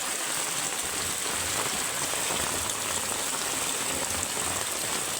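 Steady rain falls on surfaces nearby, a dense, continuous hiss of drops with no pauses and no voices.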